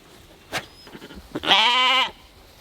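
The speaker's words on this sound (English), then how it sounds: "Now they're occupied by the sheep." A single close, loud bleat with a clear wavering tone, preceded by a few soft knocks and rustles.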